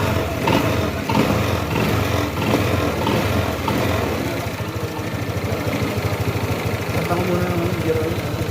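A Honda Click 160 scooter engine idles at a low, even putter, with a person talking over it.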